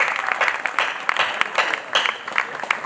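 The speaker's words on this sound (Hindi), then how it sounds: "ताली बजाइए। ताली बजाओ एक बार जोरदार।" Audience clapping at a Hindi poetry recital in Ujjain, a sustained, steady patter of many hands that fills the whole moment at moderate loudness, with no talk over it.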